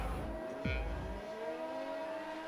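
An FVC2 race car at the start of a test race in France, its engine rising in a quick rev followed by a steady, moderately distant engine whine.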